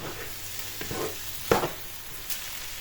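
Wine simmering and evaporating in a pan, giving a steady close sizzle with a sharp utensil scrape partway through and a couple of softer stirring knocks, with no talking.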